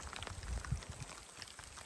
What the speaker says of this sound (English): we're accumulating some hail